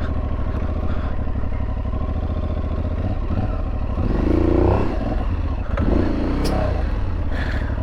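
Aprilia Tuareg 660 motorcycle picking its way off-road over rocks, its engine a steady low drone that swells briefly with clattering from the rough ground, heard up close.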